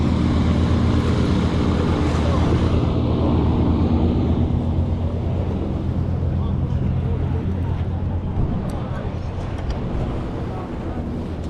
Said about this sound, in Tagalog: Lakas eh, no? Hangin lang